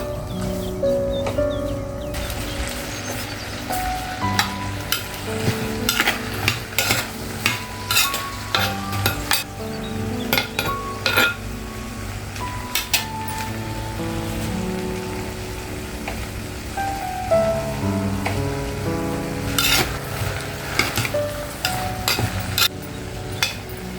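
Onions sauté in a pan for a garlic curry, a sizzling bed broken by frequent scraping and clanking stirs of a spoon against the pan, uneven in rhythm and fairly close.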